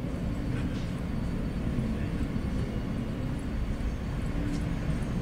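Subway train riding toward Rockefeller Center in New York: a loud, steady low rumble and roar of the car in motion, continuous and close with faint high squeals above.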